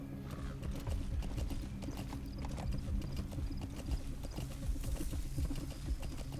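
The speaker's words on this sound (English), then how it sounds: "Oh, I can call my horse." Galloping horse hooves in Metal Gear Solid V: The Phantom Pain, a steady rapid clip-clop rhythm up close, running continuously over a low rumbling game soundscape.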